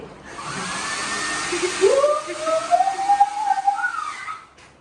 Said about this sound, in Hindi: यहाँ पे आपको मिलेगा हेयर ड्रायर भी। हम इसको चालू करते हैं।